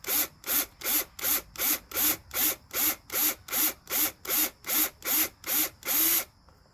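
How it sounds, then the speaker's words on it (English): An electric drill bores a hole through wood for a homemade bird feeder, with a dull bit. About fourteen evenly spaced bursts of close, loud whirring follow one another with short pauses between them, and no talk. "My drill bit's not that sharp, apparently. See it? It went through. There we go. There's our hole."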